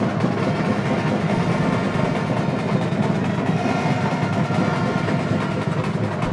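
A high-school marching band at a Green River football game against Evanston imitates a train coming down the tracks, a dense, steady roar of continuous noise with no talk over it.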